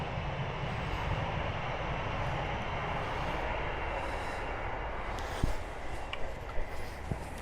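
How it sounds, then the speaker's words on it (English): A train rumbling past on the railway, a heavy continuous low roar with a few sharp clanks toward the end. "apart from the sound of the railway"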